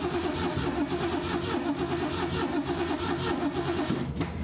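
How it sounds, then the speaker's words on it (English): A 1970s Ford Mustang Mach 1 engine cranks over continuously with a steady, dense mechanical churn that stays loud and close throughout, without catching. "just crank it over and we gotta fill the carburetor with fuel"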